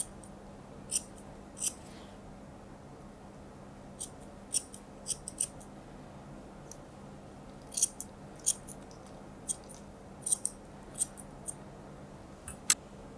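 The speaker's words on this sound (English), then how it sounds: "just scissoring off any little bits that we've missed" Crisp scissor snips trimming a poodle's coat come in short irregular bursts, some single and some in quick pairs, close by over a faint steady hum.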